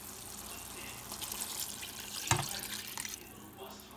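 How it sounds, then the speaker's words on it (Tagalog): Two cups of water poured into a boiling pot of noodles with vegetables, a steady moderately faint splashing pour with a sharp splash midway. "2 cups na tubig."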